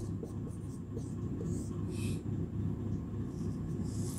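Chalk or marker scratches across a classroom board during a Sanskrit lesson, in short, scratchy strokes that come in bursts over a low, steady room hum.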